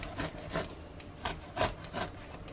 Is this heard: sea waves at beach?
no